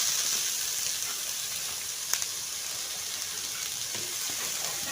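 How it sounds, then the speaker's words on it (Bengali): Chopped onion and garlic fry in hot oil in a home kitchen. The sizzle is soft and steady, with a faint hiss and a few light crackles, and no one speaks. "এখন দিয়ে দেবো পেঁয়াজ কুচি"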